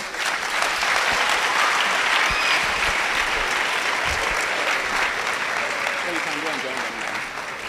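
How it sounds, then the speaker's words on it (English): Long, loud round of applause for the speaker at the R. P. Baffour Memorial Lecture, a thick wash of clapping from a large audience that holds steady, with talk faintly underneath near the end. "A louder round of applause to our speaker."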